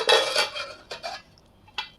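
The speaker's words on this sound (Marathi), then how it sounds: "याच्यावरती झाकण ठेवून आपण मुरू देऊ" A metal lid clatters onto a pot, followed by a couple of lighter clinks as it settles, close and fairly loud.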